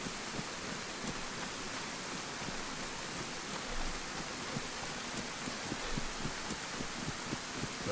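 Rain falls in the video game DayZ as a steady, soft hiss of pattering drops, even and continuous throughout with no voices over it.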